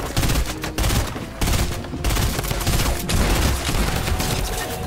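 A minigun in Fortnite fires continuous loud bursts of rapid gunfire, broken by a few short pauses, dense and close throughout.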